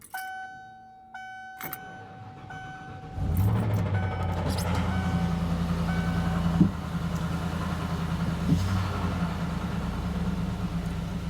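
A Mercedes OM606 diesel swapped into a 1995 Ford F-150 cranks and fires up, settling into a loud, steady, rough idle, preceded by chimes and key sounds inside the cab; no talking.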